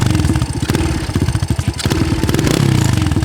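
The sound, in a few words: motorcycle engine running before throttle needle adjustment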